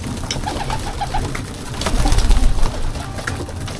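Racing pigeons cooing in a loft, a run of soft throaty coos near the start followed by rustling and fluttering, close and clear with no voices.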